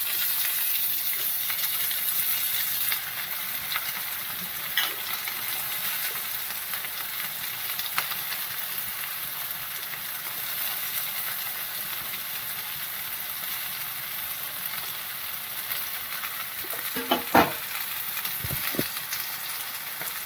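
Potato, carrot and beans frying with onions in a pan for a stuffed capsicum curry, a steady close sizzle that continues throughout, with a few faint clinks of stirring near the end.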